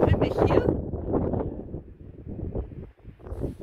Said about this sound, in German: es ist echt windig hier